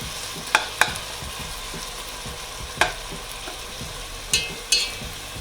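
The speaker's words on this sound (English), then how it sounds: "Let them fry up for a bit. Let it fry up nicely." Jamaican fried dumplings and butter beans frying in a pan, a steady close sizzle with a few crisp pops and scrapes breaking through now and then.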